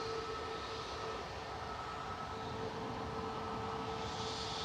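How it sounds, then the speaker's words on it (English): A Jet2 Airbus A321neo lines up for takeoff at Manchester Airport bound for Dubrovnik, its engines giving a steady, distant broadband roar that holds evenly throughout. "Jet 2 Sun H is lined up, heading off to Dubrovnik"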